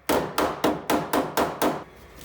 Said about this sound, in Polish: Teraz biorę sobie młotunio. Teraz sobie, mając drewienko pod spodem, mogę doklepać.